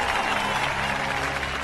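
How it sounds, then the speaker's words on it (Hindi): A crowd in a scene from a Hindi-dubbed South Indian film claps loudly and continuously, a dense burst of applause heard close with no pauses. "ताली बजाओ,"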